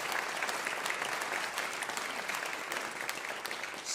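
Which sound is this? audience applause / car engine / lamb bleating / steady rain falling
audience applause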